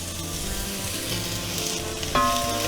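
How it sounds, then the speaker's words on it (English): Onions sizzle and fry steadily in hot olive oil in a Dutch oven, a dense close crackle with a brief sharper hiss near the end, no talking. "we're going to throw in all of our onions"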